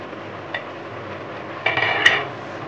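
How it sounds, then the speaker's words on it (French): Tagliatelle is stirred in a metal pan, with a quiet continuous sound and a few clinks and scrapes of a utensil against the pan that grow busier toward the end. "il faut veiller à tourner pour éviter que ça ne cuise étant en bloc"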